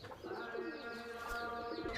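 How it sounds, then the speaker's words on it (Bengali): Large Kalduma pigeons in a loft coo in soft, repeated low calls, steady and fairly close, with no talking. "বন্ধুরা দেখুন বড় সাইজের পায়রা আছে"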